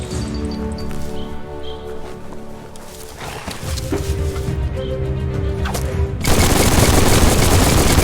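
Gunfire in the Biomutant video game: rapid bursts and sharp shots mixed with smashing impacts over game music, growing louder into a dense, harsh barrage near the end.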